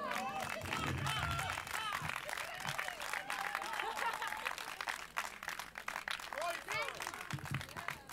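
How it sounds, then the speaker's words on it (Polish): Sustained, dense audience applause at an outdoor village festival stage, many hands clapping steadily throughout with crowd noise and a voice over it. "Jeszcze raz wielkie dla niej brawa."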